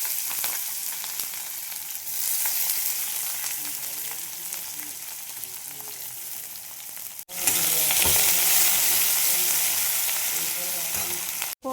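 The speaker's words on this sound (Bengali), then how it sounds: "তেল দিয়ে দিয়েছি, গরম হয়ে গেছে তেলটা। এর মধ্যে আমি এই পেঁয়াজগুলো ভেজে নেব।" Sliced onions sizzle and fry in hot oil for a chicken curry, a steady loud crackling hiss that surges even louder partway through as they are stirred, with no talking.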